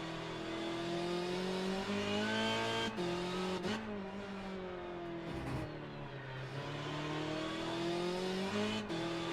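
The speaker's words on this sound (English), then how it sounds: "On board with Sean Eric in the number 29 Peugeot 406 STWRHD." Onboard engine of a Peugeot 406 STW touring race car in a racing game at Okayama, a steady loud drone that rises and falls with gear changes and brief lifts, close and continuous with no talking.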